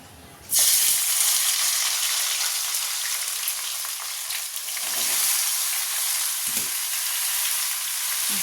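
Potatoes sizzle loudly in hot oil in a wok, a dense steady crackle that starts abruptly after a brief quiet moment and continues without voices.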